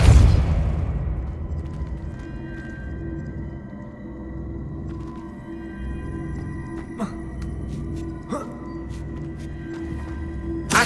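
A Depulso spell effect in Hogwarts Legacy starts with a deep booming whoosh, then settles into a low resonant hum broken by a few sharp pops and clicks later on.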